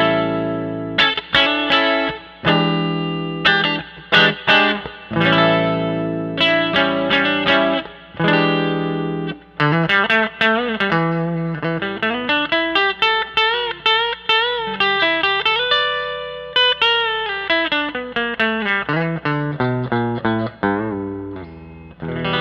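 Vintage 1967 Snake Strato, a Mosrite-style electric guitar, played through its bridge pickup with a bright, nasal tone and distortion, picking out a continuous run of melodic notes and chords, loud and clear on its own.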